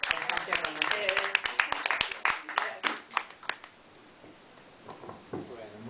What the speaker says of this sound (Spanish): un aplauso para Adriana